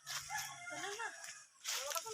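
A rooster crows in a rising, drawn-out call in a rural Philippine province, then clucks briefly, with people talking faintly nearby.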